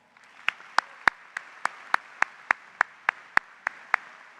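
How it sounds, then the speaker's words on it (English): Crowd at an OSU-Tulsa spring commencement ceremony clapping in unison: about fourteen crisp, evenly spaced claps in a brisk steady rhythm, clear and alone without talk. "Let's give them a round of applause."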